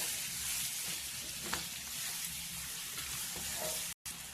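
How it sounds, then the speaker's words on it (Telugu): Pieces of bottle gourd sizzle steadily in hot oil in a pan while being stirred, with a constant close frying hiss and occasional soft scraping, no talking. "ఇప్పుడు సొరకాయ ముక్కలు అయితే వేసుకుందాం. మంచిగా కలబెట్టుకుందాం 4 పక్కల మంచిగా కలిసేలాగా."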